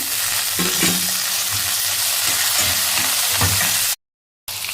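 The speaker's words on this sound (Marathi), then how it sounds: "टोमॅटो आपल्याला जास्त ह्याच्यामध्ये शिजवायचं आहे, थोडासा ह्याच्यामध्ये हलवायचं आहे." Tomato, capsicum, carrots and beans stir-fried in a pan: a dense close sizzle with a few soft stirring knocks, a brief dropout near the end, then more sizzling.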